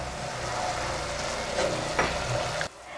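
Sugar syrup with crushed almonds stirred in a pan over heat for a bread snack, a steady close sizzle with scraping strokes of the spoon that cuts off near the end.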